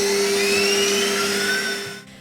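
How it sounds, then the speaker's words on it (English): An electric mixer whisks 200 grams of butter, a steady close motor whine with high tonal hum and slowly gliding pitches, fading out and cutting off at the end. "So we've started with 200 grams of butter in our electric mixer"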